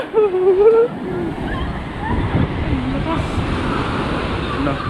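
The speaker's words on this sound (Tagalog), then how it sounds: "lakas ng alon" Strong ocean waves wash and roar in a steady broad rush after a short burst of a voice at the start.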